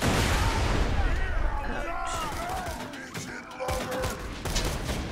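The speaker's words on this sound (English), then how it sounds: "He threw a grenade, so be careful." Bursts of gunfire and a grenade blast in the shooter game Borderlands 2, rapid volleys crackling in the distance at moderate level, with a voice speaking over parts of the fighting.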